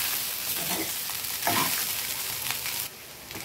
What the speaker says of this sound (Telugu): సాల్ట్ వేసేసుకొని బాగా మిక్స్ చేసుకోండి